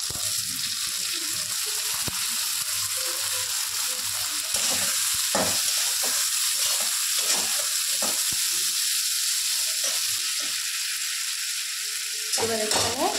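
Potato pieces fry in a hot pan with a steady, close sizzle, broken by repeated scraping and clattering of stirring throughout, with a brief pause near the end before the sizzle resumes.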